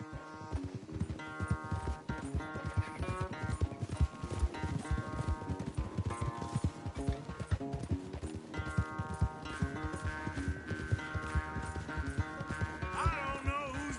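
Horses gallop hard in a race in Red Dead Redemption 2, steady rapid hoofbeats driving throughout alongside loud game music, with a brief neigh possible.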